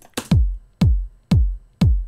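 Kick drum in a melodic house track, heard without its top loop layer: four evenly spaced, punchy hits, each with a deep booming low end that decays quickly, loud and alone.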